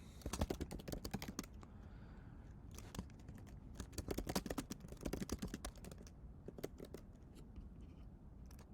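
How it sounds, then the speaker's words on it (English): Rapid typing on a computer keyboard, close and quiet, with irregular clusters of crisp key clicks and short pauses between bursts. "So I'm just going to type my question."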